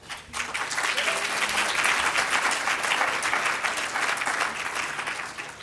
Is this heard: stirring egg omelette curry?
no